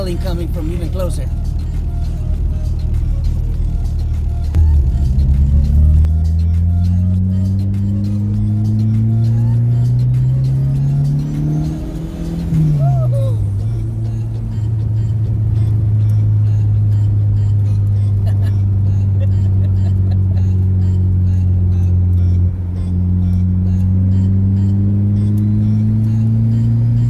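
Rear-wheel-drive Mitsubishi Starion with a Honda K-series engine swap rattles from the cabin while driving, its engine droning and rising in pitch as it accelerates and shifts, with talk over it.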